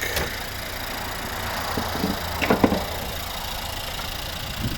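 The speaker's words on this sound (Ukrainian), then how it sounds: "Подивимось, що у нас за двигун, як він працює." A 2012 Nissan Juke 1.6-litre 190 hp turbocharged petrol engine idles steadily nearby with a low even hum, a couple of small knocks and rattles rising briefly midway.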